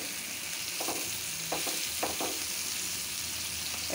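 Onions sizzle steadily in plenty of hot oil for a taro leaf dish, with a few short scraping stirs of a spatula breaking through the constant close frying hiss.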